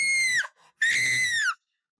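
A woman lets out two long, loud, piercing screams separated by a short gasp, close and alone without other talk.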